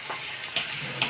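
Food stirred while frying in a home pan for a simple dinner, soft steady sizzle with a couple of brief scraping clinks of the utensil against the pan.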